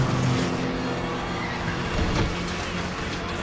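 A car in the Need for Speed The Run racing game roars as it accelerates, its loud, continuous engine drone steady throughout without breaks.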